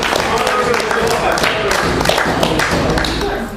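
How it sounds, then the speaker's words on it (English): Crowd clapping for itself at an open mic night, a dense, close wash of hands with thumps and taps, loud and steady throughout. "Give yourselves a hand."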